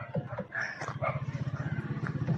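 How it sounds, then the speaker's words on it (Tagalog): Several dogs bark and yip along a running route, a steady string of short, fairly close barks repeating over a low outdoor background. "Ang dami aso."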